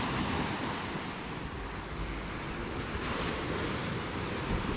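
Ocean surf at high tide on Las Terrenas Beach, a steady loud roar of breaking waves with wind noise buffeting the microphone, continuous and close, no voices.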